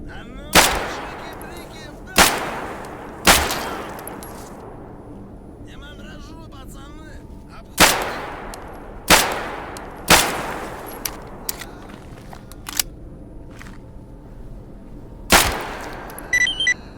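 A Makarov pistol fires in STALKER GAMMA. Seven sharp, loud single shots come in uneven bursts, each with a decaying echo tail, over quiet ambient background noise.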